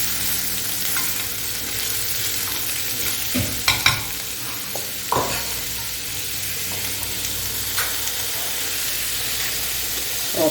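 Vegan hot dog filling with bell pepper and tomato sizzling and frying in a pan, a steady hiss broken by a few louder stirring scrapes and sputters, no voices.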